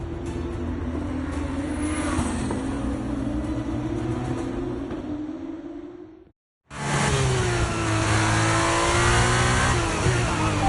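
An F1 car on fresh tyres in the F1 23 game accelerates hard, its engine note rising loud and close, cutting out briefly before a second strong surge of high revving.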